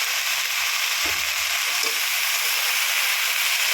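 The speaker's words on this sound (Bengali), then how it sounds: "আরও একবার নাড়াচাড়া করে নিচ্ছি।" Kulekhara greens fry in a pan with a steady, bright sizzle, broken by a few soft scraping thumps as they are stirred.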